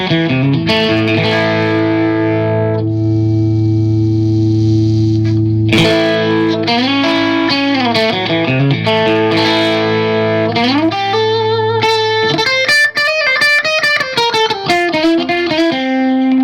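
Overdriven electric guitar through a tube amp rings out sustained chords, then shifts to bending notes and quicker riffs, loud and gritty with a warm amp tone.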